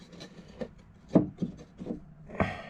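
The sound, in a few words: wooden panel fitting into place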